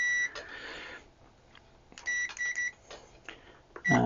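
Continuity beeper of a Zotek Zoyi ZT-5566 SE desktop multimeter, sounding as several short, clear electronic beeps in an irregular pattern, fairly loud and close.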